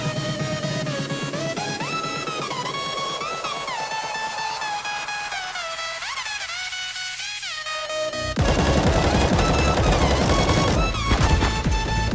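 Video-game gunfire from a Glock pistol, with game music and effects playing continuously and a denser burst of sound near the end; no talking.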